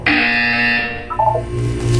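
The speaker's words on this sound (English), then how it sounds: "You will hear a buzzer." A loud electronic buzzer from Portal 2 sounds for about a second with steady harmonic tones, then shifts into a lower, stepped buzzing pattern that continues to the end, with no talking.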